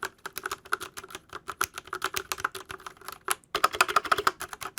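Rapid typing on a mechanical keyboard with fully lubricated switches produces dense, rhythmic, close-up keystrokes with a softer, deeper thock, a short pause before a final quicker burst, and no voices.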